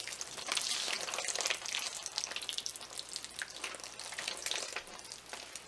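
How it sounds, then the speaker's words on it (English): Water pours steadily from a watering can onto newly separated tomato plants, a continuous splashing stream of Epsom salt solution that stays loud and close throughout with no talking. "we're just gonna water them in now with Epsom salts mixed with water"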